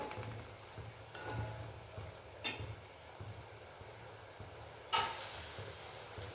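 Beetroot halwa is stirred in a pan, with steady rhythmic scraping strokes over a soft sizzle that ends in a louder hissing burst, heard alone without speech.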